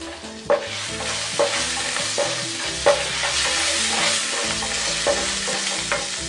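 Asafoetida and curry leaves sizzling in hot oil for amla rice, a loud close crackling fry with repeated sharp spoon-on-pan clinks and scraping stirs at an uneven rhythm, no talking.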